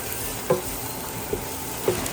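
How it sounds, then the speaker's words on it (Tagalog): Garlic frying in hot oil in a pan until brown: a steady close sizzle with a few sharp clinks of a spatula stirring against the pan, no voices. "Pag mainit-init na, ilalagay na natin ang bawang."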